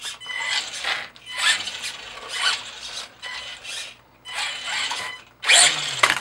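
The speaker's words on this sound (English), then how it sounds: "Oh, I think it's going to have a little bit of speed. Oh, yeah. It'll spin the tires." Electric motor of a Flamingo Xrider three-wheeled RC trike spinning its knobby tires, a series of high whining revs in short bursts, close and fairly loud.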